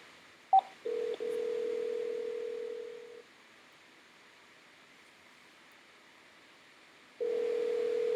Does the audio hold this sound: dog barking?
no